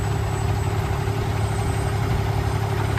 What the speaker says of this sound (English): Got the Cummins engine in it, 425 horsepower, tandem axle truck.